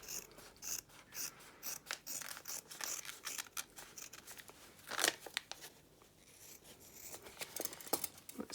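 Scissors cut out fabric for a face mask in a quiet room, giving a run of soft, close snips and rustling fabric with uneven rhythm.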